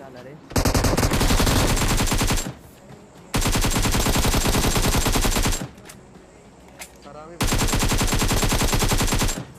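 Automatic MG3 machine gun fire in BGMI, loud sustained bursts of rapid shots, three long bursts separated by brief pauses.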